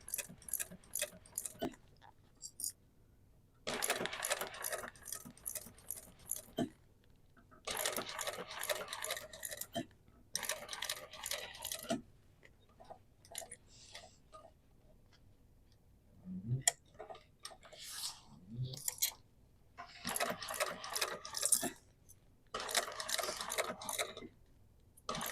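A sewing machine stitches a duffel bag in short bursts of rapid, rhythmic mechanical clatter separated by quiet pauses, close and fairly soft, with occasional small handling clicks between runs.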